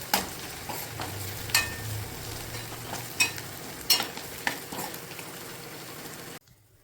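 Chopped ginger, garlic and green chillies frying in a pan, a soft continuous sizzle broken by repeated sharp clinks and scrapes of a spoon stirring, close and fairly quiet, ending abruptly in silence.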